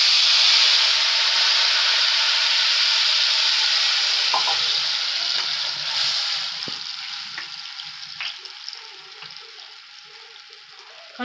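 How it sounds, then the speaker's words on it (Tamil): Tamarind water poured into hot oil for a curry-leaf kuzhambu, giving a loud steady sizzle and hiss that slowly fades over about eleven seconds, with a few faint stirring clicks and no talk. "கரைச்சி வச்சுருக்க புளி தண்ணியை அதில் ஊற்றிக்கலாம்"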